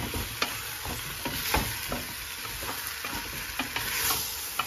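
Spices tossed into sweated aromatics in a pot fry with a constant crackling sizzle, while a spoon stirs them in quick, irregular scrapes and knocks nearby.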